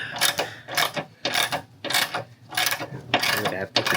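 A wrench ratcheting during a battery replacement, with a run of sharp clicking bursts in a steady back-and-forth rhythm close by and no speech.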